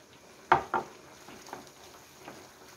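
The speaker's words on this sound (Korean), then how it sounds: "전분을 이렇게 섞어가면서 저어주세요" Starch is stirred into black bean jjajang sauce frying in a pan over high heat: a couple of soft, close scrapes and clinks near the start, then quieter stirring over a faint sizzle.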